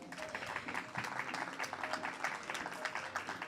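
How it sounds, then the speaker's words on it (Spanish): Audience applause for the author at a book presentation, a dense, steady patter of many hands clapping at moderate distance, fairly soft and continuous throughout. "Otro aplauso para ella."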